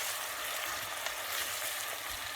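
Onions frying in a pan for yellow rice, a steady, quiet crackling sizzle with soft hissing throughout and no talking.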